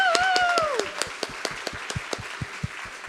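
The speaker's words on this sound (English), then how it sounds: "Could we have some wild applause now for Emma McBride" A small audience at a mental health carers forum claps in distinct, spaced claps that thin out over a few seconds, while a voice talks at the start.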